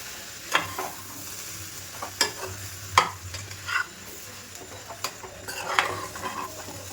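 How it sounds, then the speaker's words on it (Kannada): Egg and masala being stirred with mung beans in a frying pan: soft scraping strokes at a slow, uneven rhythm over a steady low sizzle, close and fairly quiet, with no talk. "ನಿಧಾನಕ್ಕೆ ಈ ಥರ ತಿರುಗಿಸ್ಕೋಬೇಕು"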